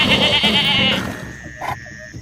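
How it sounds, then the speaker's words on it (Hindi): A village goat lets out a loud, close, quavering bleat lasting about a second, followed by a fainter, shorter call. "अनीता की बकरी की आवाज"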